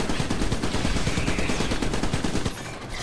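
Rapid bursts of gunfire crackle through a battle in the video game Iron Brigade, dense and loud for most of the moment before easing slightly near the end.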